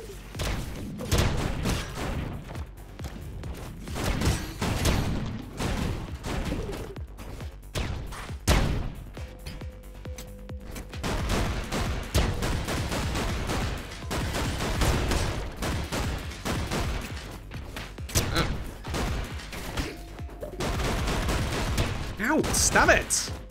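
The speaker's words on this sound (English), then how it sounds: "Hell's throwing so many goddamn grenades" Grenade blasts and rapid gunfire from the video game Orbital Bullet, loud dense bursts of booms and shots piling up continuously throughout, with voice talk mixed in.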